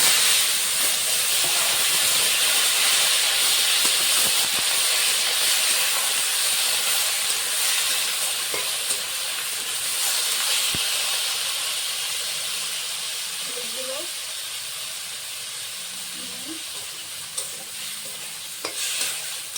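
Banana stem and potato sizzle steadily in a pan with whole mustard seeds, a continuous broad frying hiss with occasional stirring scrapes and small clinks, close and fairly loud throughout.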